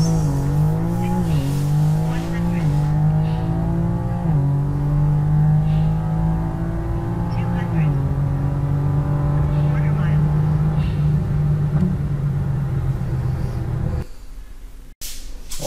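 A BMW M3 Competition G80 rated at 510 hp accelerates hard through the gears, its engine note rising in repeated pulls with short shift breaks, loud and close from inside the car, before dropping away to quiet near the end.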